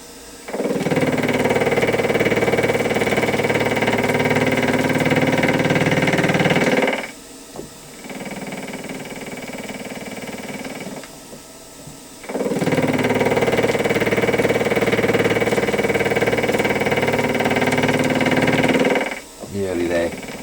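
A milling cutter machining a metal workpiece for vise clamps gives a loud, steady grinding roar in two long passes, each broken off by a short quieter gap.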